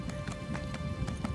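A summoned horse mount's hooves clop rapidly in Elder Scrolls Online on PS4, a quick steady run of game hoofbeats over a dense background bed, no speech.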